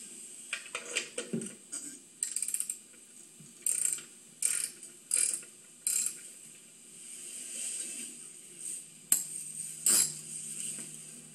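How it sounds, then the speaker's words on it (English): Ratchet clicks while tightening during an oil change on a 2006 Kawasaki ZX6R motorcycle, short bursts of rapid clicking repeated about a dozen times with pauses between, close and crisp, no talking. "I use a ratchet for this just because it's kind of hard to get through by hand."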